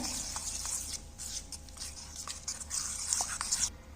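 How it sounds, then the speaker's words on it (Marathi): A spoon stirs a spiced mixture of leftover chapati in a bowl, giving soft, close scraping and rubbing strokes in uneven bursts with no talk. "हे छान असं आता इथं मिक्स करायचं"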